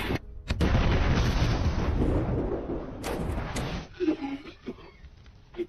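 A big car bomb explosion in a film roars out, followed by a long rumbling blast and scattered debris sounds that fade into quieter crackles.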